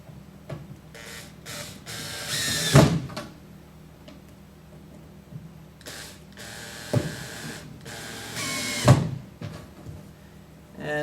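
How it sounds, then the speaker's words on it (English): A power drill driving screws into kitchen cabinets whirs in three short bursts, each spinning up and cutting off, with quiet handling clatter between them. "I'm going to do that real quick with the drill"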